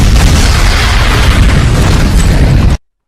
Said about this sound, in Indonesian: mereka pun membuat helikopter itu meledak.